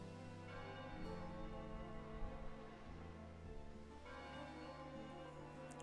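Soft, sustained bell tones ring out as the bell of evocation in Chocobo's Mystery Dungeon, layered sonorous chimes that shift pitch a few times, faint and steady with no talking.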